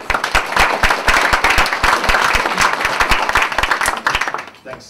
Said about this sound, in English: Give a round of applause to Alex.